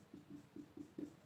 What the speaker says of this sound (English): let us write down the topic